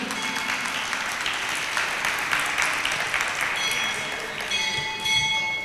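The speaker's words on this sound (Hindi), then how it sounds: "और एक बार फिर से ताली बजा के" An audience at a religious sermon claps hands together in a steady, moderately loud round of applause, with a few tonal ringing sounds entering toward the end.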